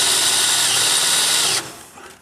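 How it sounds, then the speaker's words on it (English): A loud, steady high-pitched drill whine through metal runs for about a second and a half, then cuts off abruptly, leaving a quieter fading rattle. "It's always good to have a cool metal when you're drilling."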